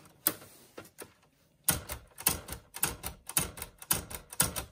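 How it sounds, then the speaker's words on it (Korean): Backspace and keys on a Kyungbang 700 series portable typewriter clack sharply and close, first two isolated strikes, then a steady run of about a dozen rhythmic mechanical snaps with no talking. "우리가 보통 백스페이스 키를 누르면 이런 소리가 나죠."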